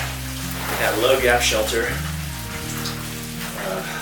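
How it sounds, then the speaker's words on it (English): Steady rain patters on a surface close by on the Appalachian Trail, a continuous hiss beneath people talking. "It's raining."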